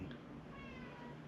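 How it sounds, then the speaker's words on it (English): A domestic cat, an older female nearly 13, lets out one short, soft meow close by in a quiet room. "Here's a good kitty."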